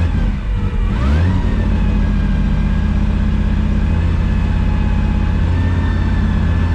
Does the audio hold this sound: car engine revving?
yes